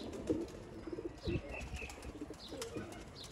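Breeder pigeons, Sialkoti birds, coo softly in a loft with brief wing flaps, the calls repeating at a close, moderate level against a busy background.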